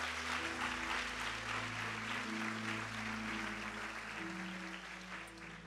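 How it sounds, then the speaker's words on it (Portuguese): A church congregation applauds during a sermon, steady broadband clapping that holds for the whole stretch, with sustained low musical tones from an organ or keyboard underneath. "Mais forte esse aplauso."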